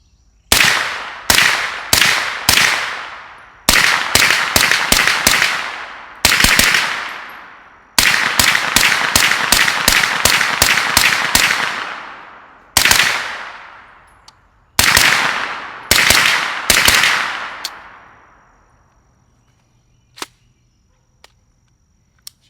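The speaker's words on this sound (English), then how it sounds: "we're going to start off with some Winchester white box, 115 grain ammo, and see how she does" Suppressed AR9 9mm carbine fitted with an Omega 9k suppressor, firing Winchester white box 115 grain ammo, loud sharp shots in quick strings and rapid bursts with short pauses, followed by a few faint clicks.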